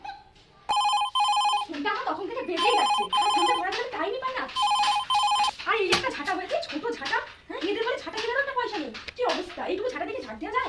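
A telephone ringtone sounds in repeated loud bursts and goes unanswered, while people talk throughout, their voices overlapping the ringing in a domestic comedy scene.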